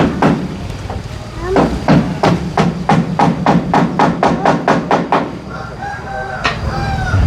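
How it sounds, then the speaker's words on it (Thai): A hammer drives nails into wooden strips during house building, a quick, close run of about a dozen sharp, evenly spaced blows, followed by a rooster crowing in the background. "ใส่ตะปูตอกเนาะ"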